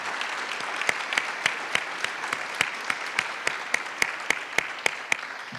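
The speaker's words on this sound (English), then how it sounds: "Melanie, a nice round of applause." An audience at a 2017 introductory press conference applauds Coach Dennis Felton and his wife Melanie, a steady round of clapping from a modest crowd with sharp individual claps standing out, loud and sustained throughout.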